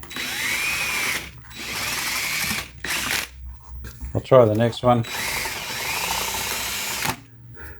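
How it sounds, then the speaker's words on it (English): A power drill drills out hinge rivets on an RCA Victor 26BP, whirring in long, steady bursts, stopping and restarting, with someone speaking briefly during one pause; close and fairly loud. "I'll drill out the rivets through the hinge here"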